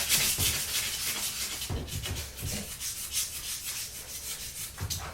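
Hand sanding of an aluminum Honda Grom wheel, sandpaper rubbing in steady back-and-forth strokes, close and fairly loud, with no talking over it.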